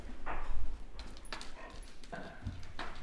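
Two dogs, Bonnie and Kettle, give a few short barks and soft whimpers nearby, scattered irregularly across the moment with faint shuffling between them.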